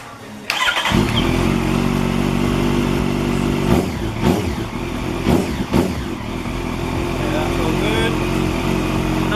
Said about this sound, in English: Gonna fire the bike up, make sure everything works. You guys get to hear it in person, what she sounds like.